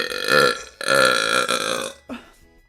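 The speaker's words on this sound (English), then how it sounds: "Burping?" Two long, loud, drawn-out belches come back to back, close to the mic, followed by a short gulping tail, with no talking over them.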